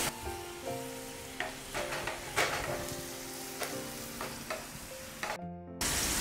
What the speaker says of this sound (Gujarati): ડાર્ક બ્રાઉનિશ માર્ક્સ દેખાય ત્યાં સુધી આ લસણને આ રીતે તેલમાં કકડવા દેવાનું છે।